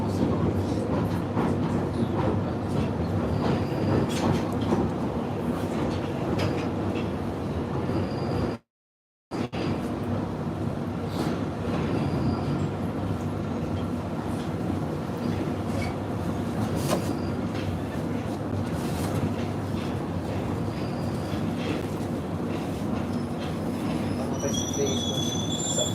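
A London Underground Northern Line train running through the tunnels near Camden Town, a loud continuous rumble with wheel squeal and rattling carriages, steady throughout with a brief dropout partway.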